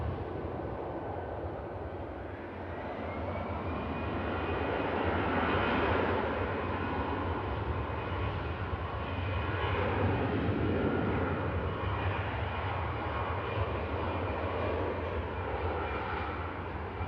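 An Aer Lingus airliner departs Manchester Airport for Dublin, its jet engines building to a sustained roar with a rising whine, heard from some distance with no talk.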